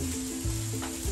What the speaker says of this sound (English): I give it a good stir